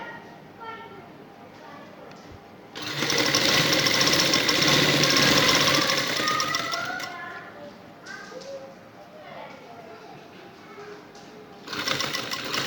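A sewing machine stitches along a neck border with a double foot, starting with a loud steady whirring run that eases off, then a shorter burst at the end, with someone talking in between.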